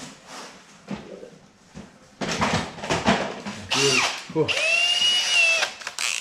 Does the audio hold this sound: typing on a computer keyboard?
no